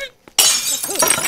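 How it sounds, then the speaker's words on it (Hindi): Glass breaks with a sudden loud crash that rings on with scattered shards after a moment of near silence, heard alone in a domestic scene from a Hindi comedy film. "लगता है कांच तोड़ना पड़ेगा।"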